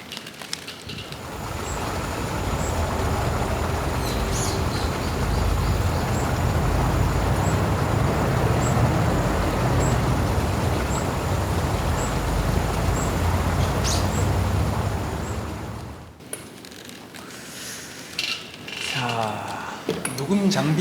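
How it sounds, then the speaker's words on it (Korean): Steady rain is falling in woodland beside a road at Hanon crater on Jeju, with a continuous dense hiss and wash of traffic noise that cuts off abruptly near the end, leaving a quieter ambience. "그 도로가 인접한 곳에서 떨어진 빗소리."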